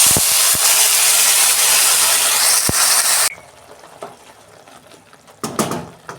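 Ground spice paste hitting hot oil in a wok bursts into a loud, steady, close sizzle that cuts out abruptly, followed by quieter crackling and a few stirring knocks.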